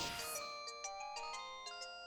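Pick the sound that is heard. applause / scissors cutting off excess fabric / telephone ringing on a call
telephone ringing on a call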